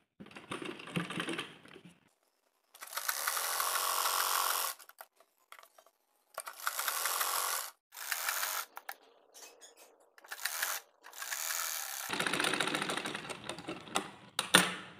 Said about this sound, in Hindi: यहाँ पर हम सिलाई कर लेंगे